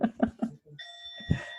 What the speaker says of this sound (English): Oh, there is the gong.